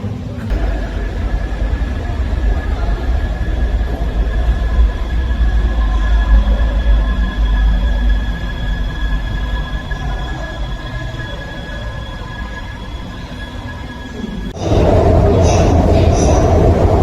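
A Beijing Subway train pulls into a station with a steady rumbling hum and faint whine, closing with a louder burst of noise as it comes to a stop.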